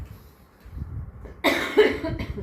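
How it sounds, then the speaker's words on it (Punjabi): A single sharp cough bursts out close to the microphone after a quiet, murmuring stretch, trailing off briefly. "ਸੌਰੀ ਮੇਰੀ ਖਾਂਸੀ ਨੋ ਆ ਰਹੀ ਹੈ"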